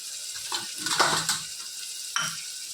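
A spoon works through dal with green chillies, salt, garam masala, turmeric and hing in a pot, a few soft scraping and sloshing stirs over light sizzling, close by and with no voices.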